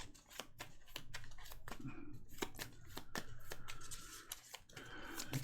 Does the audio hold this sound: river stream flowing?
no